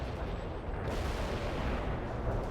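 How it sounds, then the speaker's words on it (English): Artillery fire in the World in Conflict video game: a dense, continuous rumble of distant shelling and blasts filling the whole stretch, steady and loud with no distinct separate shots. "Artillery firing."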